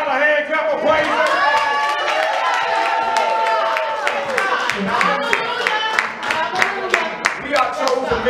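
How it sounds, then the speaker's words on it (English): Worship service congregation giving a hand clap of praise, many hands clapping loudly and continuously with sharp individual claps, cheering voices and ringing music tones around them. "can we give God a hand clap of praise?"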